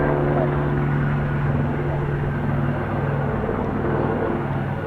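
An F-35B stealth jet roars steadily through a vertical landing at an air show, a loud continuous engine drone with a low humming tone, while people talk faintly over it.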